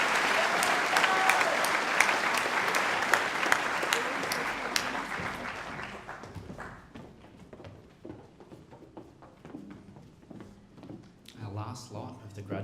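Loud audience applause for high school Year 12 graduates at a graduation ceremony, dense for about five seconds before fading into scattered claps with a voice coming in toward the end.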